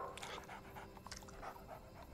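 A puppy pants in an animated film, quick breathy huffs repeating steadily and close for about two seconds, with no talking over it.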